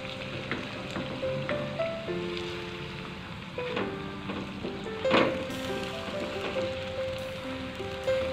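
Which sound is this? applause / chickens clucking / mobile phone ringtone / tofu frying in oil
tofu frying in oil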